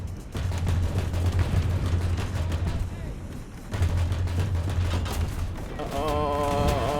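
Rapid 40 mm autocannon fire from an EBRC Jaguar armored vehicle in War Thunder, sustained bursts of dense booming shots in two long runs, loud and close, with game effects and a voice beneath.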